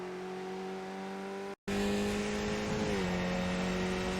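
A Skip Barber race car in iRacing at Interlagos gives a loud, steady engine tone, cuts out for a brief gap, then accelerates hard with the pitch dipping as it shifts and climbs again.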